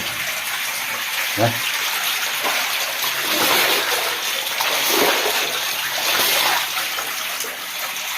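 Water run from a tap onto a freshly repaired bathroom floor to check it for leaks, a loud steady gushing and splashing that fills the whole stretch, with faint voices underneath.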